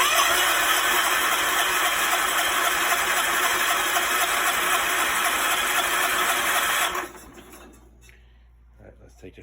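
A John Deere 210 riding lawn mower engine runs with a steady, loud, buzzing drone, then cuts out abruptly near the end, leaving near silence.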